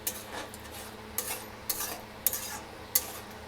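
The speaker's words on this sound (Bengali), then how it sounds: "দইটা দিয়ে একদম হালকা আঁচে এরকম করে ভালো করে মিক্স করে নিতে হবে" Yogurt being stirred into a fish curry in a pan over low heat, with soft scraping and rubbing strokes and a few sharper spoon-on-pan taps spaced about every half second to second, close and fairly quiet with no talk.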